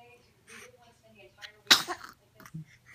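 A single sharp, loud sneeze bursts out in the middle of a quiet home moment, with soft talking before and after it.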